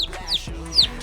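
Chickens raised from baby chicks on a small backyard farm give two or three short, close clucks and squawks in quick succession, with nobody talking.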